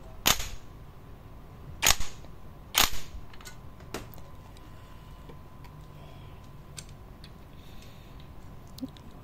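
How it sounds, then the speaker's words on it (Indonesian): Wrench tightening the clutch nut on a Honda Supra X motorcycle: a few sharp metallic clicks near the start, then a faint ticking background hum. "Setelah itu kita kencangkan pakai kunci."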